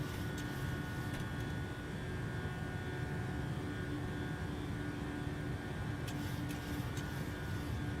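An airliner accelerating after takeoff in a flight simulator game, heard as a steady low engine drone and broadband rumble throughout, with faint clicks, no talking.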